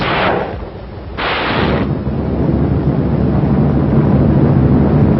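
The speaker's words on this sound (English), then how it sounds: "firing their massed salvos with close precision until the troops were 300 yards from the beaches" Massed artillery salvos from warships off the D-Day beaches, heard as heavy rumbling booms and a continuous roar in an old, band-limited recording.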